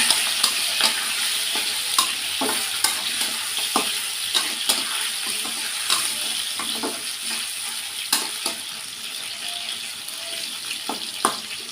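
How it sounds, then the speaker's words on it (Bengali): Meat sizzles steadily in a hot pan, broken by repeated scraping clicks of a spatula as it is stirred. "মাংসটা ভেজে নেব।"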